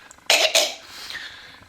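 Two harsh coughs in quick succession right after hard laughter, close and loud, trailing off into a faint breathy throat sound.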